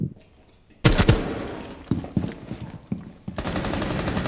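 In Rainbow Six Siege, sudden loud bursts of automatic gunfire break a near-silent start, rapid rattling shots followed by several separate single cracks, no voices.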